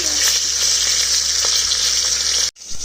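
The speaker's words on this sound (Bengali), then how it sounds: "তোমরা দেখতে পাচ্ছ মাছের মাথা সুন্দরভাবে ভাজা করছে।" Fish heads frying in oil on low gas heat, a loud, dense, continuous sizzle close by that cuts off abruptly near the end.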